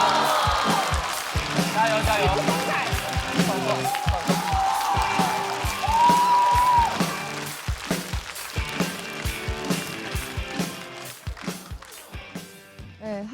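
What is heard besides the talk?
audience applause and cheering welcoming a comedian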